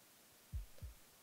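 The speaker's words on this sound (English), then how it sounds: "God, that heartbeat noise is really disconcerting" Heartbeat sound effect from the video game Above Snakes, two soft low thumps about a third of a second apart, a single lub-dub pulse, faint and muffled with no talking over it.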